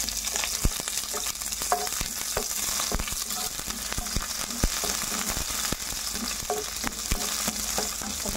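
Onion frying in a pan, a continuous close sizzle with scattered pops and scraping taps of stirring, no voices.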